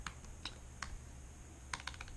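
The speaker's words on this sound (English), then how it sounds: "Let me type in my password real quick." Computer keyboard keys tapped while entering a password, a handful of sharp, quiet clicks in uneven bursts against a soft room hiss, with no talking.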